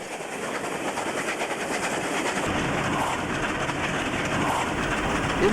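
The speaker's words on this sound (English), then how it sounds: "By sunset, the train approaches Temora." A steam train draws nearer at sunset near Temora, New South Wales, its rumble and rhythmic clatter building steadily, with birds faintly audible in the background.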